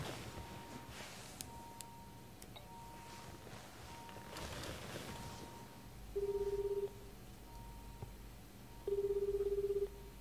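Two ringback tones of a phone call in JUDGE EYES sound in succession, each a short steady buzz about two seconds apart, under a low ambient background with no talk.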